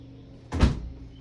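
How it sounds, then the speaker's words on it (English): A door in a house swings shut with a single sharp thud, close and fairly loud, against a quiet room. "the door closed"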